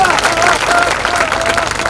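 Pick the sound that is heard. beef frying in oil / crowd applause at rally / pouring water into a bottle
crowd applause at rally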